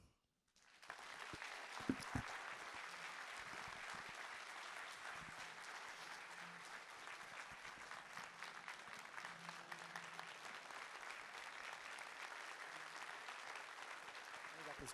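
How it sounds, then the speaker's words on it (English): Steady applause from an audience at a business annual dinner, sustained clapping that starts abruptly and holds at an even level throughout. "you give yourselves a hand of applause"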